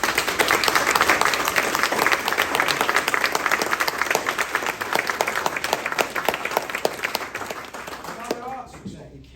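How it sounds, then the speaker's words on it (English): Sustained applause from a crowd at a youth football club presentation day in Wycombe, dense and steady for several seconds, tapering off at the end, with some voices mixed in. "So firstly, I'm going to give those a massive round of applause, please, and I'd ask you to join me."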